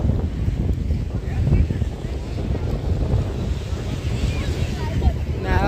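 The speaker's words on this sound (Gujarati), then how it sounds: "તો મિત્રો અહીંયા અત્યારે પવનનો થોડુંક વધારે જ છે પવન." Strong seaside wind at Nishkalank Mahadev temple in Bhavnagar buffets loudly and continuously, with gusty rumble against the microphone and a distant wash of waves.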